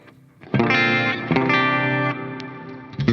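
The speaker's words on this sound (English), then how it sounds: "it gives you really kind of really super bright, spanky sort of sound" An electric guitar using a split-coil pickup setting through a Line 6 Helix rings out in bright, distorted chords with effects, two sustained strums followed by a few short picked notes, loud and close.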